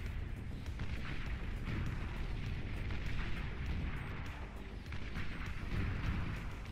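A pop-up turret fires in a video game battle, a continuous dense stream of booming shots and bursts heard at moderate level, amid a steady rumbling wash of combat noise with no voices.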